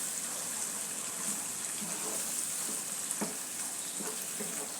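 Chopped tomato cooks in a pan for pasta, giving a steady close sizzle and frying hiss with faint stirring scrapes throughout.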